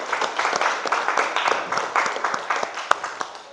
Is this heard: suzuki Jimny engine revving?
no